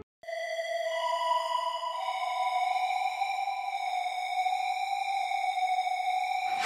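A sustained square-wave synth lead in a trap track holds a bright buzzy tone, washed in long reverb, steady and distant for several seconds before cutting off.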